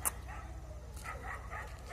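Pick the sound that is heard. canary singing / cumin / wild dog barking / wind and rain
wild dog barking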